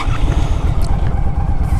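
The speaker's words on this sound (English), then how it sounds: "let's take this thing for a spin. I'll show you guys how it runs" A 2009 Yamaha V Star 1300 motorcycle engine runs close by with a loud, steady low rumble and a throbbing pulse and no talking.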